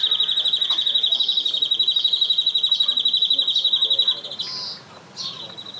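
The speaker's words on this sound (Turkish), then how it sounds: "bak canalya ötüyor" A canary sings a long fast trilling roll of rapid repeated notes, loud and close, then breaks into a few shorter phrases with quieter gaps toward the end.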